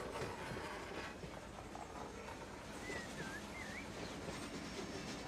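Freight train in the Run 8 Train Simulator game rolls steadily along the rails, a continuous dense rumble with faint rhythmic clatter and brief whining squeals partway through, constant and fairly loud throughout.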